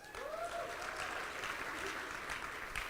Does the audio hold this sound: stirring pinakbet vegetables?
no